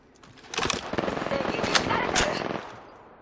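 Sharp gunshots crack one after another in a short, loud volley in a shooter video game, rising and fading within a few seconds.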